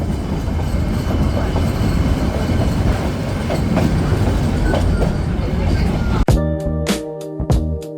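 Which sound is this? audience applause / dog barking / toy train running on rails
toy train running on rails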